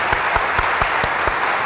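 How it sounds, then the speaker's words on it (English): Audience applause after an intimate evening with author Silas House in Mt. Sterling, Kentucky, a fairly small crowd clapping steadily, with individual claps standing out sharply and close. "Let's give him one more round of applause."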